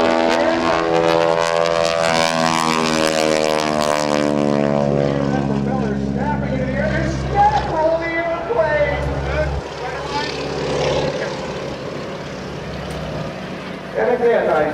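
Propeller stunt plane flying aerobatics at the 2014 Naval Air Station Oceana Air Show, a loud droning engine whose pitch sweeps and shifts through a hammerhead manoeuvre, under an announcer's commentary.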